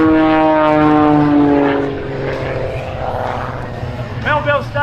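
Airplane performing aerobatics at the Warriors Over The Wasatch air show at Hill Air Force Base, a loud sustained engine drone with rising and falling pitch, under a commentator's voice and crowd noise, fading slightly partway through.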